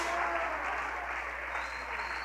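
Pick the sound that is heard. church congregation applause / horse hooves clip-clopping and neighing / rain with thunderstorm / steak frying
church congregation applause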